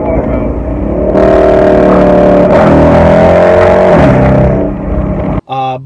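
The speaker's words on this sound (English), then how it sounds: "the next portion of this review is supposed to be me driving the Charger RT with the H&R lowering springs" Dodge Charger RT on H&R lowering springs driving, a steady loud engine drone with harmonic bands that climbs and settles as it runs, ending in a brief cutoff and a short burst of different noise.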